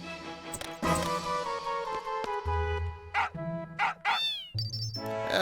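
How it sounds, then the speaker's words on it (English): A cat meows in Final Fantasy VIII, several clear meows mixed with game music and sound effects, close and fairly loud. "Kitty cat."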